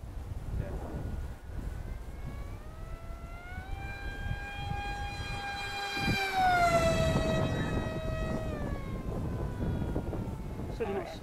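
A Micro Skyhunter RC plane makes a fast flyby, its high motor whine rising in pitch as it approaches, peaking loud overhead, then dropping away, with outdoor wind noise and a brief voice.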